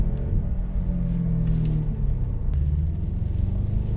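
A 2019 Subaru WRX STI with a manual gearbox accelerates hard on a rainy road. Steady engine rumble and road roar hold throughout, with a faint rising tone in the middle.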